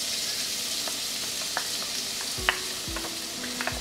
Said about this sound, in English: To a warm pan, add cooking oil. I'll add my ginger and garlic paste.